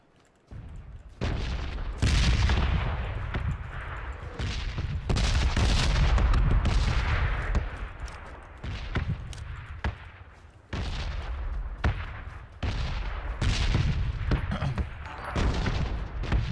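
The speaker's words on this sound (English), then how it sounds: "Incoming bombs, World War III." Artillery bombardment in a PUBG red zone, a barrage of heavy booming blasts landing one after another for a long stretch, loud and close, with short pauses between some volleys.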